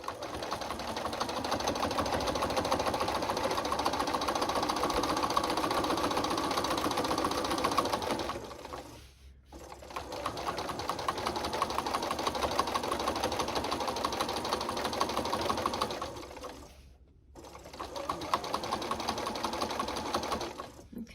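A sewing machine stitching a flange border on a picture-frame quilt runs in rapid steady bursts, pausing twice briefly before starting again, loud and close.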